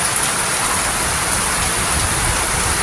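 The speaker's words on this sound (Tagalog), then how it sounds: "Hihintay ng mga magpapalay, magsasakaan dito na yung ating hinihintay ng ulan." Long-awaited rain pours down steadily over farmland, a loud, uniform hiss of dense drops on surfaces that stays constant throughout, with no voices.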